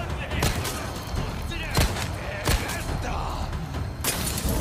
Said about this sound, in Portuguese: O Lucar ignorou meu tiro